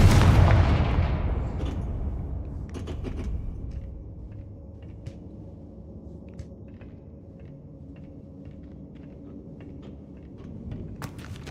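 A Confringo blasting spell detonates in Hogwarts Legacy, a loud booming explosion that fades into a long rumbling decay, followed by scattered small crackles and pops.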